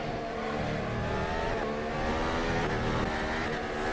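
Race cars in a mobile racing game, a Ferrari among them, roar steadily at high revs with a dense continuous engine drone and slight pitch shifts while overtaking.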